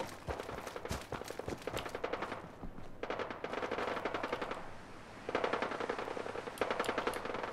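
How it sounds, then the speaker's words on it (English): Rapid automatic gunfire in the Fallout 4 video game, rattling in sustained, closely spaced bursts that run almost without pause, loud and dense throughout with brief dips between volleys. "Is that automatic fire?"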